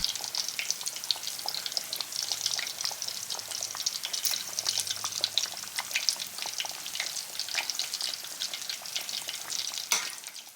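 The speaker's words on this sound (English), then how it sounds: "Enjoy the sounds of deep fried pork." Pork cutlets for tonkatsu deep frying in hot oil, a steady dense crackle and sizzle with constant popping bubbles, close and continuous without pause.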